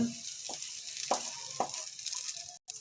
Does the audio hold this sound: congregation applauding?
no